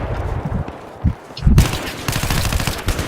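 Rapid bursts of automatic gunfire crackle loudly and continuously in a Battlefield 3 multiplayer firefight, with a brief lull before the shooting intensifies.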